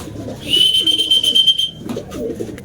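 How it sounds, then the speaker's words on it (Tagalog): A racing pigeon arriving home at its loft during a derby race lap, with a loud close whistle-like tone and wing flutter, followed by faint distant voices. "dumating na ang ating ibon guys"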